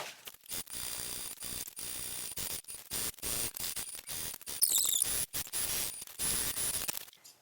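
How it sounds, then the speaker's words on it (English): A sewing machine stitches across a vinyl pouch, giving a steady mechanical whirring in bursts broken by short pauses, close and fairly loud, without talk. "I'm just going to start sewing across the bottom and sew all the way around."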